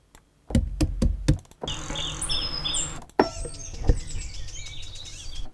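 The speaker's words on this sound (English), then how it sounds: "So that's just bird song." Birdsong captured as a field recording: bright, repeated chirps and short whistled phrases over a soft outdoor hiss, preceded by a cluster of sharp knocks and taps at the start.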